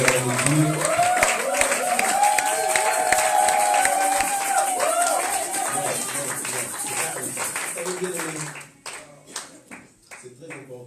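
Church congregation cheering and clapping in acclamation of God, a loud dense crowd roar with voices and scattered claps that tapers off near the end into sparse individual claps.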